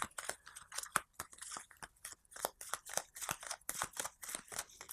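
A deck of cards from the Eve: War for New Eden board game is shuffled at close range, giving a quick run of crisp, flapping card snaps and riffles that stays steady for several seconds, with no talking.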